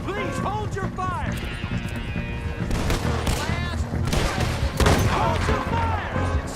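Gunfire in the video game Red Dead Redemption 2: rapid scattered shots crack over galloping hooves, with shouting voices overlapping throughout a loud, chaotic firefight.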